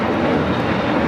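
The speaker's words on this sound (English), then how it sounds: "This is JetBlue 224 taking off to JFK on the A321neo" A JetBlue Airbus A321neo departing LAX gives a loud, steady, close-up jet roar filling a brief moment with no break.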